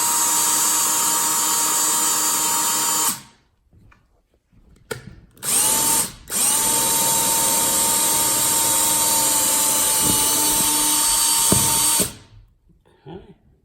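A power drill bores down through a house floor for an electrical floor outlet, a loud steady whine running about three seconds, then brief bursts, then a long continuous run before stopping.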